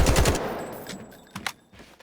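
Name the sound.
gun firing at firing range in video game Delta Force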